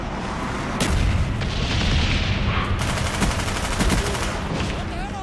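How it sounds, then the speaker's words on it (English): A napalm strike lands in a Call of Duty-style shooter game, dense rumbling blasts and crackling fire mixed with rapid gunfire bursts, loud and continuous across the whole stretch, with a voice briefly heard over the chaos. "Sending napalm strike on the way."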